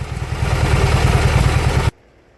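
A junkyard Briggs opposed twin engine runs steadily, a loud close rumbling idle with a rapid even pulse, then cuts off abruptly into near silence.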